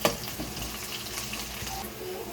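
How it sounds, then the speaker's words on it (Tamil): Onions and curry leaves sautéing in a pan for a dry fish thokku, a soft continuous frying hiss with faint bubbling, heard close at moderate level with no talking. "வெங்காயம் நல்லா வணங்கிடுச்சு"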